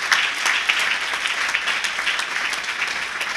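An audience at a book launch ceremony applauding, a dense, steady burst of clapping from many hands across the whole stretch, with no talk over it.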